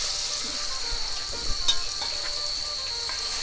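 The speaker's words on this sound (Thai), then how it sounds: "กระเทียมแล้วก็หอมนะครับ นะครับทอดเหลืองเลยครับ ตามด้วยพริกแห้งครับ" Garlic, shallots and dried chili fry in hot oil in a wok, giving a steady, even crackling sizzle that runs continuously, with a few light scrapes and clinks of stirring mixed in.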